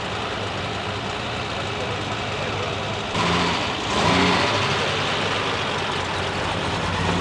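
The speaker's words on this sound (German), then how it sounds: "Wieder ein Porsche, ein 911er, Baujahr 1986." A 1986 Porsche 911 engine running steadily close by, a broad continuous rumble that swells slightly partway through, with a voice talking over it.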